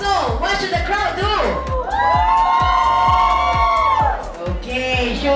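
A crowd cheers and whoops at an egg tart eating challenge, with loud overlapping shouts and yells over a rhythmic thumping beat and a voice calling out.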